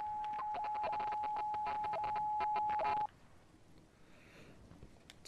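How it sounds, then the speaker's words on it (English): Rapid tonal beeping in Remothered: Tormented Fathers, a steady pitched tone pulsing in quick Morse-code-like bursts for about three seconds, then cutting off to a quiet ambient hum. "Someone trying to, like, contact us using Morse code?"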